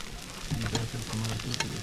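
Dosa batter sizzling on a hot pan while being cooked, a steady close frying hiss with soft stirring or scraping touches throughout.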